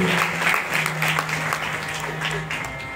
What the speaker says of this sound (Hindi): जोरदार तालियां एक बार इन महान संतों के लिए बजा दीजिए